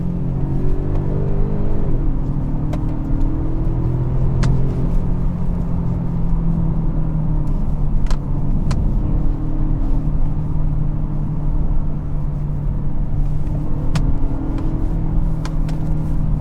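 A 2023 Genesis G70 2.0T Sport Prestige engine pulls steadily while driving, giving a continuous low drone whose pitch climbs and shifts through the run, with occasional faint clicks inside the cabin.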